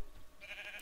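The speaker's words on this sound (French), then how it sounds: "Là par contre il y a trop de moutons" A single short sheep bleat from Minecraft, faint and brief against a quiet background.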